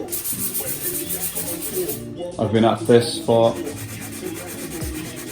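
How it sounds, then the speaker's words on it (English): Steady abrasive rubbing of 800-grit sandpaper on a carbon bike frame runs throughout, with a voice speaking briefly over the scraping midway. "Okay, so just sanding the other side."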